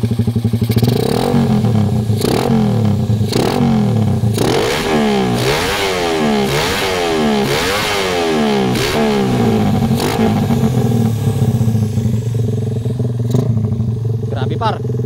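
A motorcycle engine fitted with a 32mm open airscrew carburetor is revved repeatedly, loud and close, rising and falling in sharp throttle blips over a rough idle, with someone talking over it.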